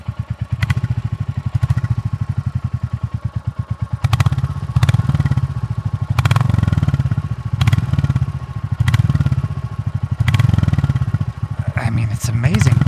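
A Royal Enfield Classic 350 motorcycle engine idles close up with a steady thumping exhaust beat, punctuated by a few sharp louder pops and blips.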